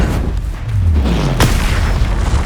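Booming Confringo spell blast in Hogwarts Legacy combat, a deep low thud with a sharp burst near the middle over a steady loud roar of battle.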